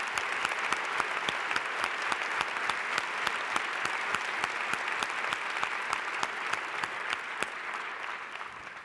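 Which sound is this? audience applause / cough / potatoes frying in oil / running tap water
audience applause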